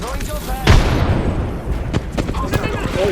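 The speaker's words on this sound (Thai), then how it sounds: "มีคนปาระเบิดมา" A loud grenade explosion in Apex Legends, followed by scattered sharp gunshot cracks under excited shouting voices.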